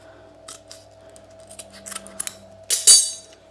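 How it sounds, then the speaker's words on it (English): Snips of scissors cut a piece of material for an extra battery install on a Swagtron EB7 ebike, a few small clicks followed by two louder, close cutting snaps at the end over a low steady hum. "so let's just cut this off a little bit"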